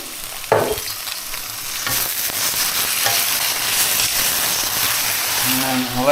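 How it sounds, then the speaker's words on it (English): Mushrooms quick-fried and stirred in a hot pan, giving a steady loud sizzle with occasional scraping stirs; a faint voice and tonal hum rise near the end. "just give it a quick fry with those mushrooms"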